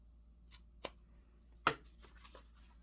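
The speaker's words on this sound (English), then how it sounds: "now we're gonna cut diagonally here" Scissors cutting diagonally through the fabric of a sewn bag produce a few sharp, isolated snips close by in an otherwise quiet room.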